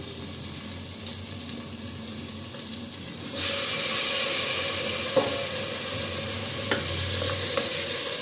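Tomatoes and green chillies go into a pan of sautéing onions with a sudden jump to a loud, steady sizzle, followed by a few spoon clinks and stirring scrapes up close, with no talking.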